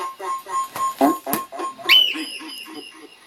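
A pet bird whistles in short bright chirps and a rising note, close and fairly loud, with brief gaps between calls.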